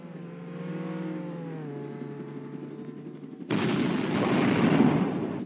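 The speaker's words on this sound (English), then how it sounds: "why are you dropping bombs on me?" Bombs dropping and exploding in a Roblox video game: a tonal engine-like drone gives way to a sudden loud, sustained burst of noisy blasts and rumble.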